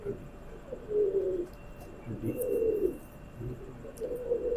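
A Kamaghr pigeon coos nearby in a series of soft, throaty calls, with short pauses between them and faint background noise.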